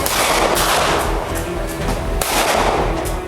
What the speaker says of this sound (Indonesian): Polisi bahkan terpaksa melepaskan tembakan ke udara